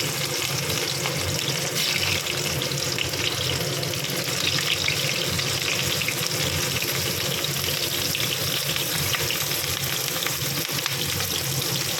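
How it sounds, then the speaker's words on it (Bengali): Cauliflower pieces fry in hot oil in a wok, making a dense, continuous sizzle that stays at a steady level, close by, for the whole stretch with no voices. "তেল ভালো করে গরম হয়ে গেছে, এবার ফুলকপিগুলো দিয়ে দিচ্ছি।"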